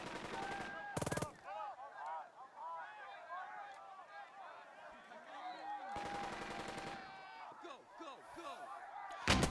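Bursts of gunfire hit a squad in the WWII tactics video game Burden of Command: two loud, short rapid volleys several seconds apart, with someone talking throughout.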